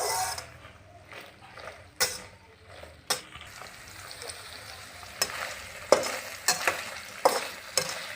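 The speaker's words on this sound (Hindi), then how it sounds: "भिंडी को तड़का आ गया है" Okra (bhindi) frying in a pan with onion, tomato and green chilli in a simple home kitchen, with steady sizzling and repeated scraping stirs of a spoon against the pan, close and fairly quiet, with no talking.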